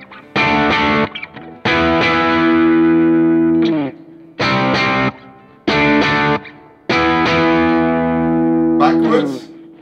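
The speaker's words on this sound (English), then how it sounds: "Let's hit a few power chords or something, you know, cool." Distorted electric guitar power chords played through a wireless guitar system, struck in five loud sustained bursts with short gaps between them, ringing with heavy overdrive.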